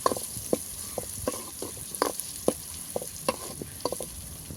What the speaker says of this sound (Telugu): ఉల్లిపాయ పసుపు వేసుకొని తర్వాత కొద్దిగా సాల్ట్ ఒకసారి ఫ్రై చేసుకోవాలి కలుపుకోవాలి